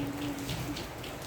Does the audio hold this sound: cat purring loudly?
no